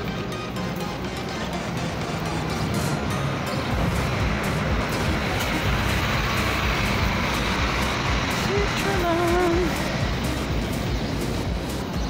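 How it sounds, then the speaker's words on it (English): Articulated double-body city bus in Winterthur, Switzerland rumbles steadily with engine drone and road noise close by, a continuous loud vehicle sound with a brief whining tone near the end. "yung bus na double body or extended body"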